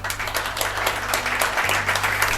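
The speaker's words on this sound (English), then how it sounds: "I'll just ask everybody to give these gentlemen a round of applause" Studio audience applauds two guests on a talk show, a steady wash of clapping lasting the whole stretch, with a low steady hum underneath.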